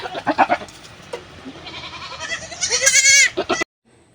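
Goats on a farm bleat loudly and close by, a few short calls followed by a longer wavering cry that stops abruptly.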